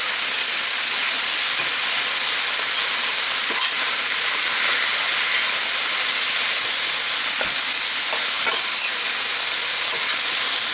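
Al dente vegetables and a hot pepper frying in hot oil make a loud, continuous sizzling hiss, with a few sharp crackles and pops scattered through it and no voices.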